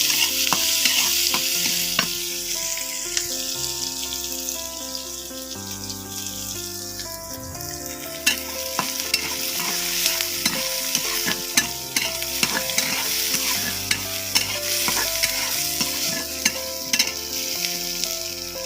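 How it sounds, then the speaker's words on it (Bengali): Onion and garlic fry in oil until reddened, a loud continuous sizzle and crackle close by with frequent stirring knocks, and a low musical tone running underneath, with no talk. "আমি পেঁয়াজ রসুনগুলোকে প্রথমে তেলের উপর ভেজে নেব, ভালো করে লাল করে ভেজে নেব।"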